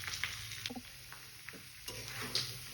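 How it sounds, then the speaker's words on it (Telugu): Bottle gourd pieces fry in a pan with tempering seeds and curry leaves, giving a faint, steady sizzle with soft ticking and stirring clicks scattered throughout. "దీనిని ఒక 5 నిమిషాలు వేయించుకోవాలి."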